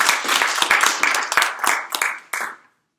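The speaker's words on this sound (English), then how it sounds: "Let us give him a clap." An audience claps in a short burst of distinct, closely spaced hand claps nearby, thinning out and stopping abruptly after about two and a half seconds.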